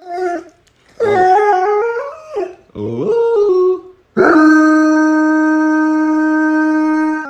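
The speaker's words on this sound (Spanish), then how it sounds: "Sonidos de animales, ladridos de perro." A dog in the video game House Head whimpers and yips in a few rising, whining calls, then lets out a long, sustained howl that rings on loudly.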